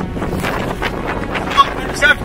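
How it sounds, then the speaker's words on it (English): Strong wind from Storm Ciara buffets the microphone in heavy gusts by the sea, with sea spray and a roaring, rumbling wash of noise throughout. "It's seriously windy."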